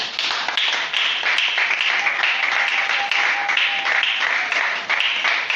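Church congregation at an Easter service applauding to acclaim the Lord, a dense, continuous wash of many hands clapping. Loud and sustained throughout with no pauses, and faint voices mixed into the crowd.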